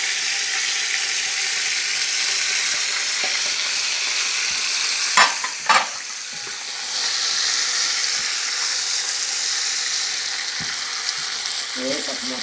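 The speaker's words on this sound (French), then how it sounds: "Les oignons, je vais laisser frire encore" Onions frying in a pan for a chicken rice dish, with a steady, close sizzle throughout, a couple of sharp utensil scrapes near the middle and a brief clink at the end.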